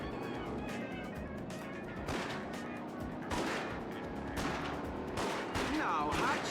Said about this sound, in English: No, Hutch, you're wasting ammo